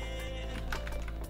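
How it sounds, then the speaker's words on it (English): Fast clicking on a computer keyboard during a live stream, continuous and close, with quick irregular key strikes and no voices. "I'm sure my typing is loud as heck right now."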